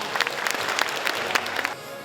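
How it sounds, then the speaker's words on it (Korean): An audience at a forum on next-generation nuclear reactors applauds with sustained, even clapping that thins slightly toward the end. "여러분 박수 부탁드리겠습니다."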